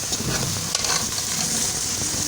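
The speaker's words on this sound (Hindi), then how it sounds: "गोश्त ऐड करने लगे हैं।" Chicken being fried and stirred in a pot while making dum biryani gives a steady, close sizzle with scraping stir sounds throughout.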